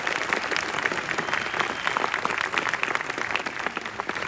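Sustained audience applause fills a theater at a 70mm Star Wars special screening, a steady dense wash of clapping from a large crowd with no pauses throughout.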